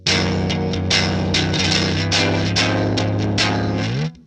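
An electric guitar is strummed hard through a fully dimed amp, so the gain breaks up into gritty, distorted chords. The strums are loud and repeated for about four seconds, then cut off abruptly.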